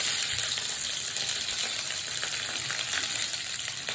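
Curry leaves hit hot coconut oil in a kadai after mustard seeds and dried red chillies, giving a loud, continuous hiss and crackle of frying that stays steady throughout with no talking.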